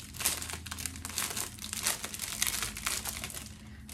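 Crinkly plastic packaging being unwrapped and smoothed out by hand, giving a loud, continuous crackling and crumpling close up, with no talking.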